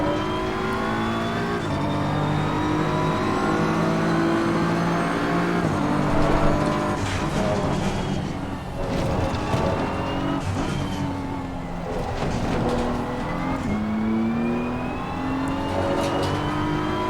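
A race car's engine roars close and loud as it accelerates repeatedly, the pitch climbing through gear changes and easing briefly between pulls.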